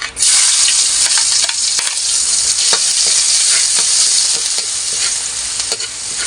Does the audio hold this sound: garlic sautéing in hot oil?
yes